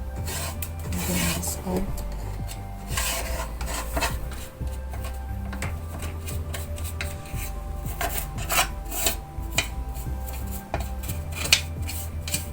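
A brush scrubs hard across the metal parts of an industrial sewing machine being cleaned and oiled, a steady close rasping that continues throughout with brief scraping accents; a voice says a few words partway through.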